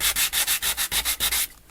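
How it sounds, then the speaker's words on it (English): Fine-grit sanding block rubbed back and forth over a Dollar Tree craft face, nine or ten steady, evenly spaced rasping strokes, close and loud, then a faint trailing stop. "It's a sanding block, and it has different grades of sandpaper on each side."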